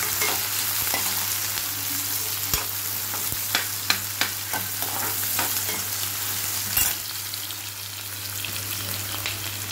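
Sliced onions fry in oil in a pressure pan, a steady close sizzle with scattered sharp taps and scrapes of a spoon stirring, and a low steady hum under it all; no one speaks.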